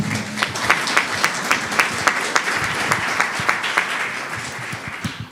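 An audience at a church business gathering applauds, a lively patter of many hands with sharper individual claps popping through, steady at moderate distance and without talk.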